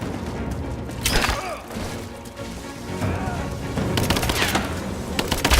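Gunfire in the video game Rise of the Tomb Raider cracks in irregular bursts and single shots, mixed with thuds and impacts, growing denser toward the end.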